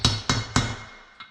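Hammer tapping a valve stem seal onto an engine cylinder head during valve installation: three sharp metallic taps in quick succession, then a fainter fourth after a short pause, close and clear, with no speech.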